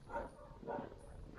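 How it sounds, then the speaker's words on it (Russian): A dog barks twice in an outdoor residential block with a heating main and a playground, two short, moderately distant woofs spaced about half a second apart, with faint background noise. "Собака на меня гавкала."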